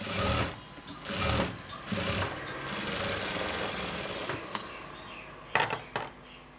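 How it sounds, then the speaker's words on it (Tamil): A sewing machine stitches a blouse piece, its needle mechanism whirring and clattering in short bursts and then a longer steady run, close and moderately loud, with a few sharp clicks near the end and no talk. "இந்த இடத்துல இப்படி வச்சு இங்கே மட்டும் ஒரே தையல் போட்டால் போதும்"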